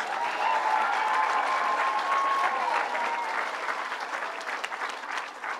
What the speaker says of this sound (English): Regent Joe Finn, let's give him a big round of applause.